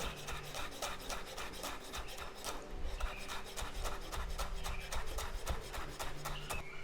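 A knife chops fresh coriander leaves on a wooden board, fast rhythmic taps with a rasping, scraping edge that go on steadily and close by, with no talking.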